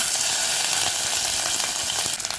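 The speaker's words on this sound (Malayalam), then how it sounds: "കടുക് പൊട്ടി വരുമ്പോൾ നമുക്ക് കുറച്ച് കൊച്ചുള്ളിയും കറിവേപ്പിലയും അതുപോലെ തന്നെ ഡ്രൈ ചില്ലി അതായത് ഉണക്കമുളക് കൂടെ ഇട്ട് കൊടുക്കുകയാണ്" Mustard seeds, shallots, curry leaves and dried chili crackle and sizzle steadily in hot oil for a Kerala-style chicken stew, close and continuous with no voices.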